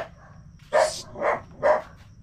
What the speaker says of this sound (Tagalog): Walang tigil ang tawal pa rin ng aso.